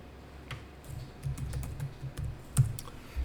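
Soft typing on a computer keyboard during accounting software data entry, a quiet, irregular patter of key taps with one firmer keystroke near the end, no talking.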